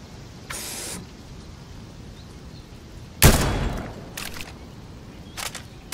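Gunfire in the video game Fortnite, a few sharp separated shots, one loud close crack followed by shorter bursts, against a quiet background.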